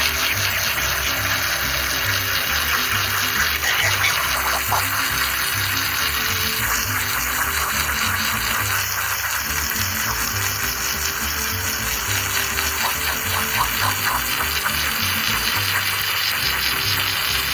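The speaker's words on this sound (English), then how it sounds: "I'm gonna give all three of these a good spray down" A hose sprays water steadily over dirty parts of a 2000 Jeep Wrangler, a continuous close hiss layered over a constant low engine or pump hum, with no talking.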